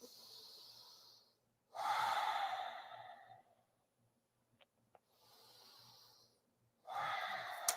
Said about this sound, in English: Take 1 or 2 more breaths here.